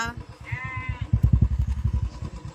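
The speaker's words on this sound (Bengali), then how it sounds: "ভেড়াকে ডাকছি, ভেড়া বলছে মা।" Answering a call, a sheep in the Sundarbans gives a short nearby bleat, followed by a steady rhythmic chugging motor-like pulse that grows louder and continues to the end.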